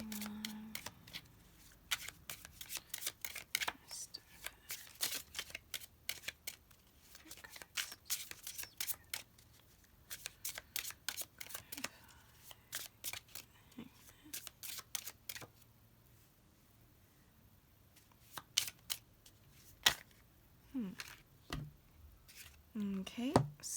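Tarot cards being shuffled at close range: a long run of quick, crisp riffles and soft slaps, dense in bursts with short pauses, quiet and steady with no talk over them.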